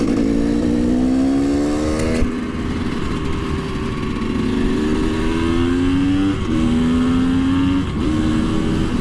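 A KTM EXC 250 two-stroke motard motorcycle engine buzzes steadily while being ridden, loud and close throughout, its pitch climbing and dropping in steps as gears change.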